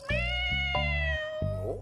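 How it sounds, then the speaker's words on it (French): A cat in a cartoon lets out one long, close, drawn-out meow lasting over a second, with a few soft low thumps underneath and a short squeak at the end. "Un chat. J'adore les petits chats."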